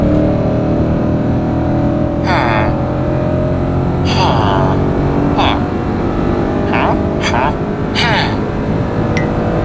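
A Ford Mustang engine, stage 3 tuned to 500 hp with a loud exhaust, drones steadily and loudly throughout, with a sustained low rumble of driving and occasional brief higher-pitched sounds over it.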